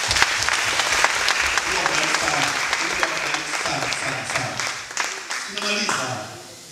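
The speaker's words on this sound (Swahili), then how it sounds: "Atumchapie basi makofi kwa ajili ya mchungaji wetu." A church congregation claps for their pastor at a gospel gathering, a sustained round of dense applause from a crowd that gradually thins toward the end.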